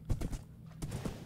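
Horse hooves clip-clop in the video game Minecraft as a ridden horse moves, giving a few soft, quick hoof thuds in a short, faint burst.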